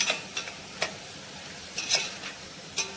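Spicy Agri-style masala is stirred into a bean curry in a pan, with a spoon scraping and tapping several times over a low steady sizzle.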